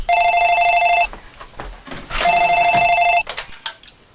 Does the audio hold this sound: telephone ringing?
yes